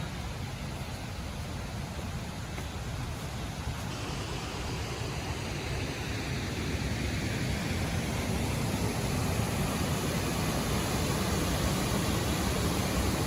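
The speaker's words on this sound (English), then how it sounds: "Sounds like a waterfall up there too." A small waterfall on a creek in cold autumn woods makes a steady, continuous rushing hiss throughout, growing slightly louder toward the end, with no speech over it.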